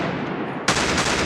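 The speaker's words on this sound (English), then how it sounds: "You get a gunshot." Gunshot sound effect: a single loud, sharp crack that bursts in abruptly and holds as a bright, noisy blast over a quieter background, with no talking.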